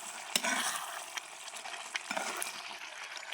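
Tomatoes and masala fry in oil for Kashmiri fish with tomatoes, a continuous close sizzle broken by scraping strokes of a stirring spoon at an irregular pace.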